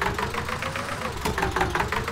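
A tractor engine idles steadily in the farming video game Farming Simulator 19, a Swaraj 855 mod, with a continuous rumbling, knocking drone at moderate level and a slight rhythmic pulse.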